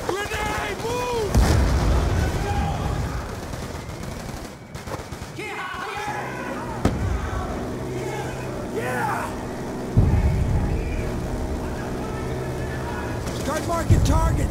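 Grenade explosion in Call of Duty: Black Ops II amid a battle: a heavy blast in the middle, surrounded by rapid gunfire and artillery-like booms, with soldiers shouting over the din.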